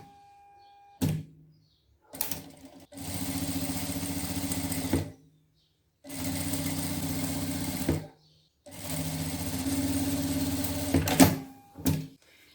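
A sewing machine stitches a hem on a trapeze dress in several separate runs of steady, close motor whirring and needle clatter, each lasting a few seconds and separated by quiet pauses and small handling thumps.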